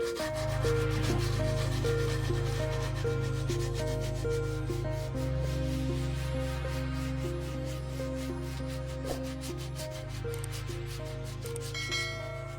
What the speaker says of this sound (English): Teak is a very hard wood, so it's going to sand slowly.